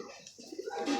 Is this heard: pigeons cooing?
yes